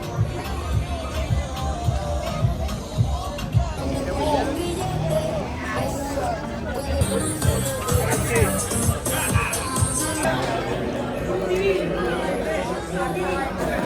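Busy crowd chatter at the adults pool of the Riu Santa Fe resort in Cabo, a steady babble of many overlapping voices close by, with no clear music standing out.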